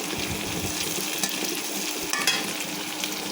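Haicha shak greens frying in a pan, a dense steady sizzle with a few soft stirring knocks, close and unbroken by voices.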